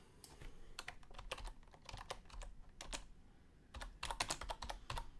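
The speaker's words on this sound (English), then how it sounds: "And I'll just type in the text in this case." Quick bursts of keystrokes on a computer keyboard, close and fairly quiet, in uneven clusters separated by brief pauses, with no talking.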